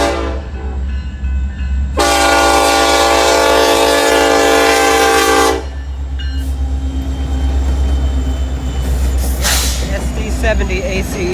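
Norfolk Southern freight train with SD70ACE locomotives rolls past at McCord Park, a loud steady horn blast lasting several seconds over a continuous deep rumble of wheels and cars that carries on after the horn stops.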